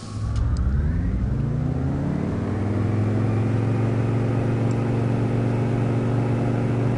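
An aircraft engine in Microsoft Flight, during a practice takeoff in Hawaii, rises steadily in pitch as the throttle comes up, a continuous droning roar that builds and holds with no talk over it.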